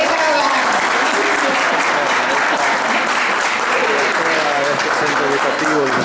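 Loud, sustained applause from a gathered audience at a school maintenance day event in El Seibo, honoring the school staff, dense clapping filling the whole stretch with some voices mixed in.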